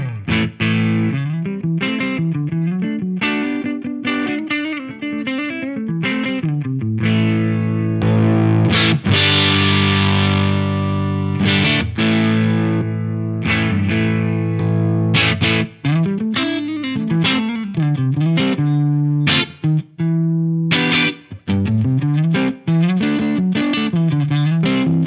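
Electric guitar played through a Lichtlaerm Aesahaettr pedal set as a metal boost, giving a gritty, distorted tone that plays chugging riffs and sustained chords, loud and continuous for about twenty-five seconds without any voices.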